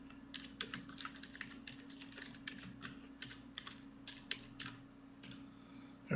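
Quick, uneven typing on a computer keyboard while working in Photoshop, with a dense run of light key clicks close by and no voices.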